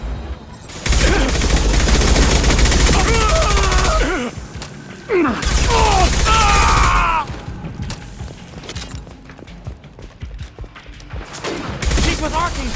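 Gunfire in the Mass Effect 2 video game, loud sustained bursts of rapid shots with whooshing and mechanical effects, dropping to scattered shots before picking up again.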